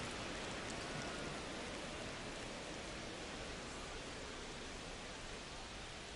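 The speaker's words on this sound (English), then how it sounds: "This rain is not letting up." Steady, dense rain hiss in MLB The Show 25, falling continuously over a ballpark during a baseball game, broad and even throughout with no talk.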